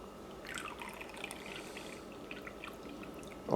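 Faint, brief trickle of chilled water poured into dumpling dough for xiao long bao, a soft splashing pour in a quiet room, ending with a louder bump.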